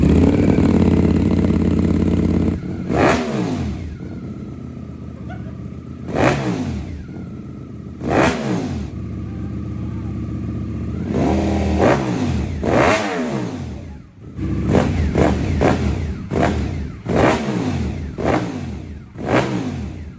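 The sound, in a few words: Ducati V4 snow bike engine starting and revving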